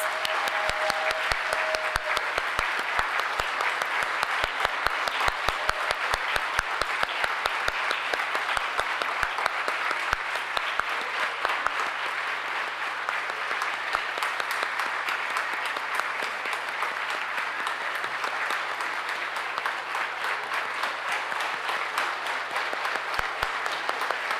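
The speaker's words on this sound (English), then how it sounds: "Could everyone please give every single scholar that came up here a round of applause?" Sustained applause fills a hall at a 2025 Martin Luther King awards ceremony as scholarship recipients are honored, a steady dense clatter of many hands at even volume, continuing unbroken for over twenty seconds.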